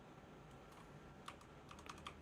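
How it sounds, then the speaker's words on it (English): Typing on a computer keyboard: faint scattered key clicks that grow into a short cluster of sharper taps near the end, over a low steady background hum, with no voices. "Why did my keyboard stop working?"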